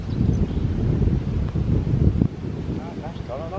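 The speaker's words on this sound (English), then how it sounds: "It's just gone 15, 20 miles an hour more," Strong wind buffets the microphone outdoors as a loud, rumbling low roar. A voice speaks over it before the gusts ease slightly toward the end.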